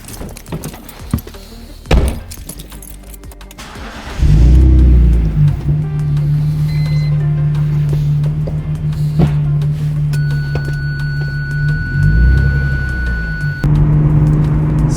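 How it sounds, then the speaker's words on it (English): A stripped BMW E46 being built as a drift car: a few door thunks and clunks, then the engine fires and holds a loud, steady drone up close, with a brief rise in revs near the end. "Let's hop in the car, go for a test drive, and let's see how this E46 feels after all the stuff we've put on it."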